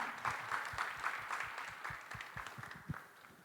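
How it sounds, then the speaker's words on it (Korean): An audience at a government innovation fair claps to welcome a presenter to the stage, producing steady, moderately distant applause that tapers off gradually. "여러분 응원의 박수 부탁드립니다."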